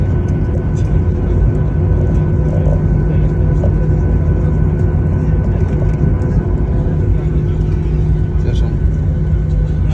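A steady, loud cabin roar on a Fly Dubai flight from Dubai to Baku, a constant engine drone filling the whole stretch without pause.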